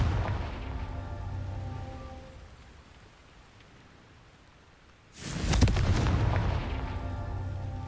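A Confringo spell explosion in the video game Hogwarts Legacy bursts out as a loud, sudden boom with a rumbling tail, after a softer stretch of rain-like ambient noise.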